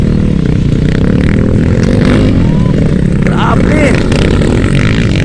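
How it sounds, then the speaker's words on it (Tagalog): Dirt bikes roar loud and close throughout, a dense steady engine din with clattering and scraping as they launch through the air, while a voice comments over the noise. "Ang lupit magpalipad ng mga motor ng mga to mga idol."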